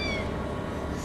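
A cat gives a single short meow, close and clear, indoors against a quiet background.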